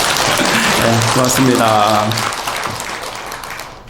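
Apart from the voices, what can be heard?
audience applause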